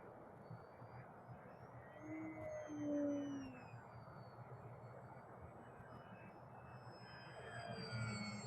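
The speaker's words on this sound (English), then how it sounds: "especially when you have such a nice RS airplane fly as this Durafly Prime Tundra" A Durafly Prime Tundra, a 3S electric RC airplane, flies at a distance, its faint motor whine drifting and shifting in pitch, swelling briefly as it passes over quiet outdoor ambience.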